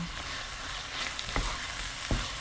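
Porcini mushrooms and leeks fry in a pan with a steady low sizzle, while a utensil scrapes and knocks against the pan a couple of times as they are stirred.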